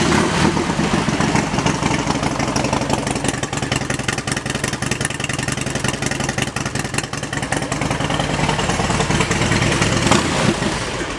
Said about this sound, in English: now you've heard a set of Vance & Hines pipes being fed by an 88 cubic inch motor